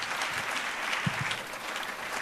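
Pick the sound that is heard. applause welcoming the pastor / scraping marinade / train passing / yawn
applause welcoming the pastor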